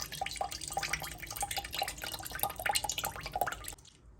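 Homemade oat milk drips and trickles through a squeezed straining cloth in quick, irregular splashes, fairly close and quiet, until the dripping stops abruptly near the end.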